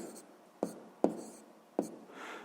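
Pen writing out a sixth-grade maths solution on paper: a few sharp taps and short strokes, quiet and close, with faint scratching between them and no voices.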